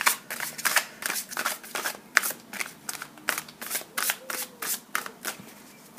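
Tarot cards are shuffled and drawn close up in quick, repeated riffling bursts, each a crisp papery flutter, in an uneven rhythm of a dozen or more bursts.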